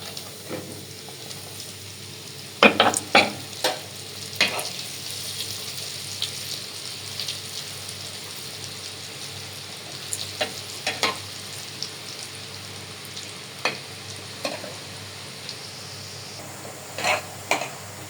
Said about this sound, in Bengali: এই যে বড়গুলো ভেজে ফেললাম।